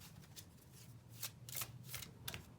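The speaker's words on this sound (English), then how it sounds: "give it one more shuffle, I guess" A tarot card deck is shuffled in a few quick riffling bursts, crisp papery flutters close by over a low steady hum, with no talking.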